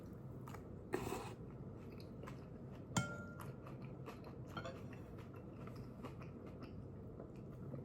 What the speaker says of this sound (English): But I'll take one more bite here as it's almost complete mush at this point.